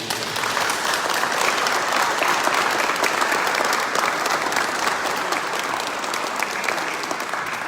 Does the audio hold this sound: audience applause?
yes